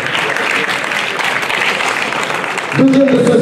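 Crowd at the 34th Course de la Bonette awards applauding a race prize winner, continuous dense clapping at close range, with a voice coming in over it at the end.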